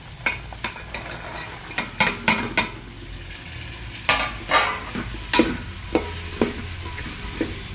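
Eggplant, carrots, cauliflower, green chillies, tomatoes and peas frying in a pan for vegetable pulao, with a low sizzle beneath irregular clacks and scrapes of a spoon stirring close by.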